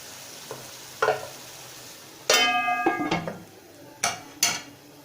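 Chicken karahi bubbles in a pan on medium heat, with a soft sizzle broken by several clanks of a metal lid and a utensil knocking against the pan, close and alone without talk.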